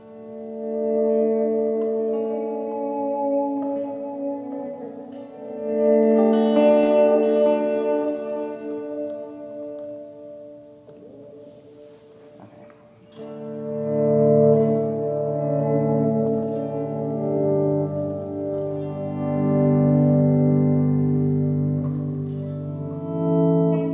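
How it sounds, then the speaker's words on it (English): Clean electric guitar notes and chords swelling in slowly, washed in echoing delay and long reverb tails, with no talking. "You can do really awesome swells and just a really nice reverb worship type tone."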